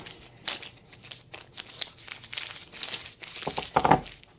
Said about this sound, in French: Alors ici ça se déballe là.